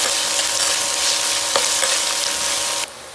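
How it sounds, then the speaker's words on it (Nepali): Onion frying lightly in hot oil with fenugreek seeds, a loud, steady close sizzle with faint stirring scrapes that drops off abruptly near the end. "प्याजलाई चाहिँ हल्का फ्राई गर्ने।"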